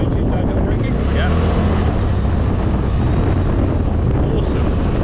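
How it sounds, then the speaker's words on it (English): A Polaris RZR side-by-side engine-brakes down a steep, gnarly off-road slope, giving a steady low drone buried under constant wind buffeting against the microphone. "Engine downhill braking."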